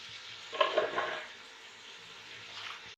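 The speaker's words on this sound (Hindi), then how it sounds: "अब उसमें हम इनको डाल के भूनेंगे।" Chicken feet are fried with masala in a pot for pulao, giving a soft sizzle with a stirring scrape that swells briefly, then settles into a faint, steady hiss.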